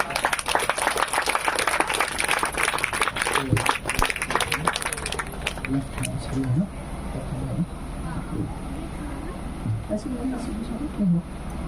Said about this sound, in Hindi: हाँ, जोर से थैंक यू, जोरदार ताली बजाएंगे।